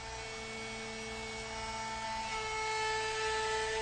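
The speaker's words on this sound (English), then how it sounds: "brought the router back for some thin passes to get everything nice and smooth and even" A router makes thin smoothing passes over a walnut fireplace mantel, a steady high tonal whine with a constant hum underneath, sustained and close with no breaks.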